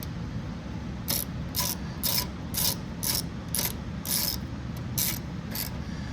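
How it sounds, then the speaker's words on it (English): A ratchet tightening a bolt on a Briggs & Stratton 130G32 governor assembly, a series of about ten evenly spaced clicking ratchet strokes, close and clear over a low background hum, no voices. "Then just go ahead and tighten it down with your ratchet."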